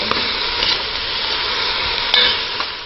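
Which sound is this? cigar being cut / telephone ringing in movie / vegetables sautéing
vegetables sautéing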